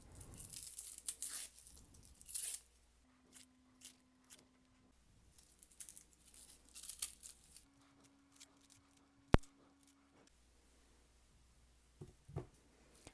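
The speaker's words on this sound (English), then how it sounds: "let's continue peeling now our onions" Onions being peeled by hand during meal prep, with soft tearing and crinkling of dry papery skins in short close bursts separated by quiet gaps.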